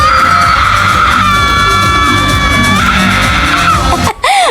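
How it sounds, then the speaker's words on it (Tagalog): Loud crowd screaming and cheering at a Ms and Mr Fashionista pageant, a dense sustained roar of yells with a higher whooping layer in the middle, then cutting off near the end. "Over naman sa sigaw."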